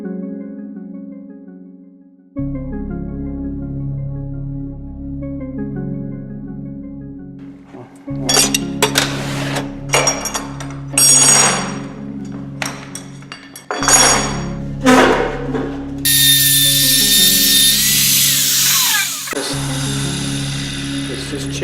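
A hammer chips away at wood while carving a maze for a pyramid puzzle, with a steady clinking, ratcheting sound at first, then bursts of sharp, loud knocks and scraping strikes close by.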